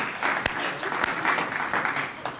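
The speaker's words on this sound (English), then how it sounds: "Let's get a round of applause." A conference audience claps in a steady burst of applause with a few sharper individual claps, moderately loud and fading slightly toward the end.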